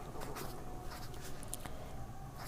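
Chalk or a marker scratches across a board while math is written out, a faint, continuous scraping with a few sharper strokes over a low room hum, with no voices.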